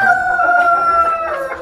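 A backyard flock of chickens, including black and brown leghorns, with a rooster crowing loudly and up close in one sustained call, clucking mixed in.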